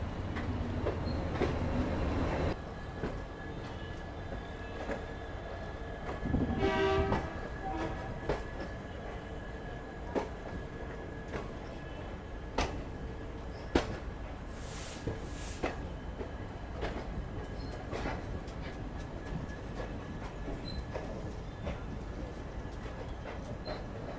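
Sabarmati–Haridwar summer special train, heard from onboard, rolls along on its way to Old Delhi, with a steady low rumble, scattered clicks and knocks from the cars, and a brief louder burst early on.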